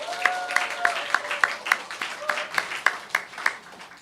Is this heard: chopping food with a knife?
no